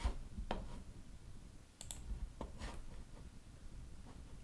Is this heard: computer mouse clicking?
yes